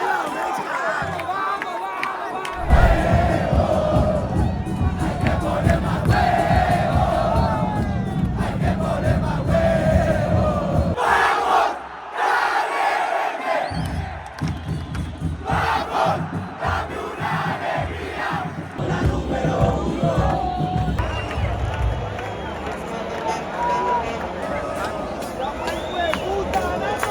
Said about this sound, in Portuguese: Torcida dos caras, bravíssima.